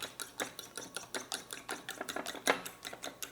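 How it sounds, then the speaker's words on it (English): Eggs whisked briefly in a bowl while making tsoureki, a Greek brioche sweet bread, giving a quiet, steady run of quick rhythmic clicking taps with no talking. "And I'm also going to whisk these eggs up just a little bit"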